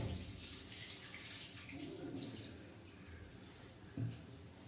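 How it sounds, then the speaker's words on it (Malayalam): Water pouring from a tap or vessel into a pot of cleaned clams for cooking, a faint steady splashing stream with a brief louder splash near the end. "ഒരല്പം വെള്ളം ഒഴിച്ചു കൊടുക്കാം."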